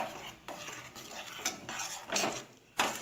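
A ladle scrapes and clinks against a pot as a sweet milk-based offering dish is stirred, in soft repeated strokes, fairly quiet and close.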